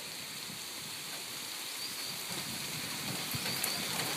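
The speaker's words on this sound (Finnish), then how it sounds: "Se on sadetta." Heavy rain pours down during a thunderstorm as a rain front sweeps in, a dense, steady hiss that swells slightly toward the end, with no distinct thunder claps and no voices.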